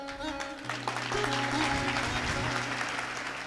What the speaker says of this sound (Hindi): तालियां बजाओ इन भाइयों के लिए